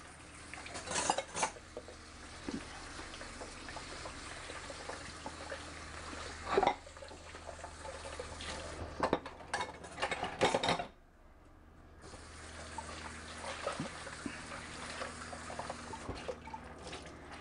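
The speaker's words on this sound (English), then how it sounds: "put my bowl underneath, just scrape into it" Plates being scraped into a bowl while clearing the table: close clinks and scrapes of cutlery on crockery, with louder clatters at intervals and a brief hush midway, no voices.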